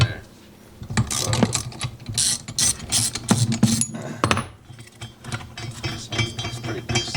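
A ratchet clicks in quick, uneven bursts while tightening a bolt on a Nissan S14 rear suspension knuckle fitted with spherical bushings, close up among other metallic tool and parts noises.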